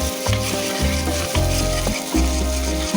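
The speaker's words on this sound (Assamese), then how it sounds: "লৰাই ভাজি আছোঁ।" Duck meat stir-frying in a pan with onion, turmeric, ginger and garlic, giving a steady loud sizzle with scraping stirs, alone and without talk.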